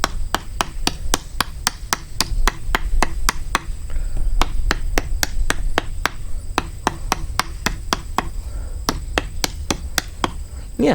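BPS HK1S bushcraft fixed-blade knife chopping into wood outdoors, a long series of sharp, evenly spaced knocks, about three per second, close and loud.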